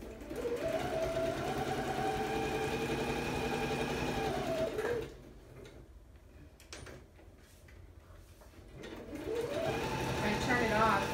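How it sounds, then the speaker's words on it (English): An electric sewing machine stitches fabric in a steady rapid whirring run for about five seconds, stops, then starts again near the end, with quiet rustling in the pause. "Let me sew this real quick. I wish my machine would stay."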